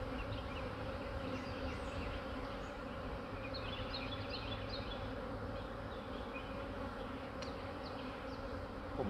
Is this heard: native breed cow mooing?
no